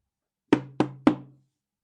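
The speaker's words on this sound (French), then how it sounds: "Il frappe plus fort." Three firm knocks on a door, growing louder, evenly spaced and close, with silence before and after.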